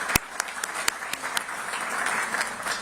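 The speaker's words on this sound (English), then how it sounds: "Again, a nice round of applause for all of our athletes up there." Applause rises at a basketball awards ceremony, starting with a few sharp, sparse claps that quickly build into a steady, fuller clapping from the crowd.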